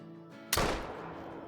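A single loud .470 magnum rifle shot fired at a wood bison in the Call of the Wild hunting game, a sharp close crack after quiet ambience, followed by a long rolling echo that fades slowly.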